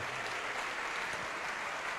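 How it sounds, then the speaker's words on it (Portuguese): Congregation in a church applauding in praise of the Lord, a steady, dense wash of clapping held throughout at moderate level with faint voices under it. "Pode aplaudir ao nome do Senhor agora"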